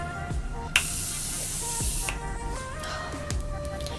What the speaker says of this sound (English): It kind of sprays like a setting spray, like a hairspray.